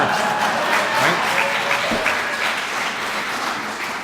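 Alumni assembly audience at a reunion breaking into applause, a full steady round of clapping from a large crowd with a few scattered voices, tapering slightly near the end.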